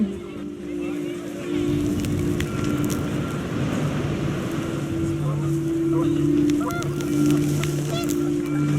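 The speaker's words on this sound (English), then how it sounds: "The wind picked up, and panicked geese appeared and quickly went." Panicked geese honk in a windy outdoor scene from the video game What Remains of Edith Finch, with repeated calls over a steady rushing wind and a low engine-like drone.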